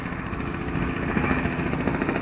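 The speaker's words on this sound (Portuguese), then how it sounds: "É da Band esse helicóptero?" Helicopter flying overhead above a city neighbourhood during a police chase, a steady throbbing rotor chop with a constant engine drone, moderately distant and continuous, no speech.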